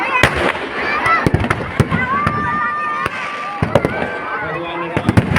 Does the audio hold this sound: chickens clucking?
no